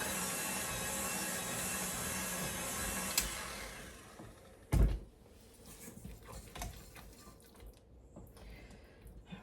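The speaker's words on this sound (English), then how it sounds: "So I'm going to let the KitchenAid do the work." A KitchenAid stand mixer kneads buttery tortilla dough with a loud, steady motor whir that cuts off about four seconds in, leaving quieter kitchen clatter behind.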